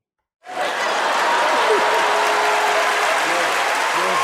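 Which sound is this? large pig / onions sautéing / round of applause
round of applause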